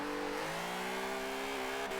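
A VW Corrado, a front-wheel-drive car, revs steadily as it tries to spin donuts, its engine note holding a sustained rising-and-levelling pitch, loud and close, with no voices.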